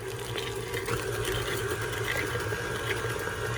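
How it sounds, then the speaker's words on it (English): An electric mixer beating egg yolks into cake batter, whirring with a steady, fairly loud motor hum and a sloshing mixing sound, nearby and uninterrupted by talk. "You could actually speed your mixer up a little bit."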